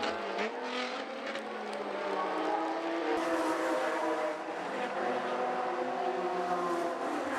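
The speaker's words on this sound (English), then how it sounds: "He revs up the engine and takes off for the circuit." A race car engine revs hard and pulls away onto a wet, slippery circuit, a loud continuous engine roar with rising pitch that holds steady throughout, with no voices.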